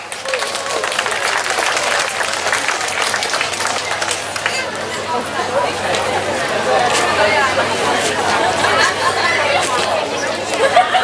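Sustained applause from an audience at a village festival day in Csallóközaranyos, mixed with crowd chatter and a hubbub of voices, steady and dense throughout.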